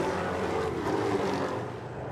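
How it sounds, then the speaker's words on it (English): NASCAR race cars thunder around the Belgium circuit in wet conditions, a steady loud engine roar blending several cars passing at a distance, with no voices. "Thundering noise the cars make"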